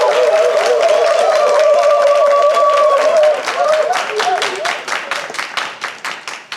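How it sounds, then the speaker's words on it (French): Audience clapping at a Beninese TV youth programme, dense and steady for about three seconds, then thinning into scattered individual claps as it fades, with a sustained voice or tone sounding over the first half. "Tous les applaudissements."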